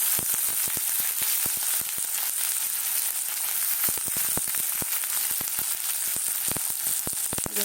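Onions sizzling as they fry in hot oil, a steady hiss of bubbling crackle with frequent sharp pops, close and continuous throughout with no voices.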